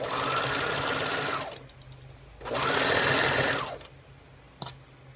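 Sewing machine stitching a waistband onto a fabric skirt, sewing two layers together: two sustained bursts of fast, steady motor whirring, loud and close, separated by a pause, with a brief click near the end.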